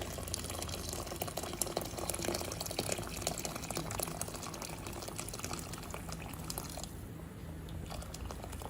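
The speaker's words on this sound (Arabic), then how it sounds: "ودلوقتي اهو نحط الميه" A continuous rushing splash of water pouring into a pot of rice for Egyptian koshari, steady and close, with bubbling hiss underneath throughout.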